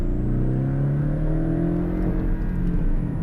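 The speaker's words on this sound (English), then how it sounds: "I'm going to give it a full throttle push here." A Porsche 718 Cayman 718 Style Edition with a PDK gearbox pulls hard at full throttle, its engine note climbing steadily as a loud, continuous rising drone close by, with no talking.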